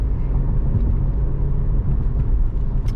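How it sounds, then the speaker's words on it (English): A 2009 Mercedes C300 4Matic AWD Sport driving, a steady low engine and road rumble from inside the car, constant and fairly loud without talk. "So we'll run it down the ramp, we get it up to highway speed."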